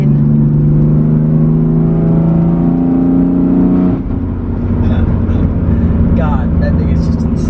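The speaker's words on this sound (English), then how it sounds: "This is a 2015 BMW M3 from the F80 generation." Engine of a 2015 BMW M3 F80 running loud and steady with a deep droning tone that shifts pitch midway, continuous throughout with speech-like activity blended in.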